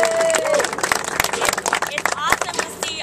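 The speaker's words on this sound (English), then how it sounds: "So give a round of applause for Lila Rose of Black Eyes." Crowd applause and cheering at an outdoor anti-abortion protest rally outside a hospital, many hands clapping with whoops and shouts, a whistle-like tone at the start, voices calling out throughout.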